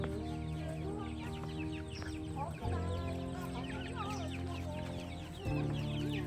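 Chickens cluck close by at a rural Thai family home, a steady busy mix of fowl calls with rooster-like bursts over a constant background din and occasional louder thumps.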